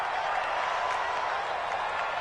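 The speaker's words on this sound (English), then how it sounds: "the crowd getting into it as we come up on a big 3rd down" A steady roar rises from a stadium crowd at a Saints versus Giants NFL game ahead of a big third down, with dense, continuous cheering and no distinct voices standing out.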